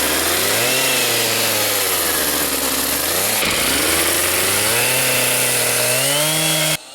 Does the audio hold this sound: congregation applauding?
no